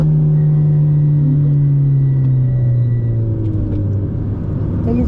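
A car accelerating hard out of a corner on a racing track, a loud, steady engine drone with a low harmonic that climbs and falls through the gears and fills the whole stretch.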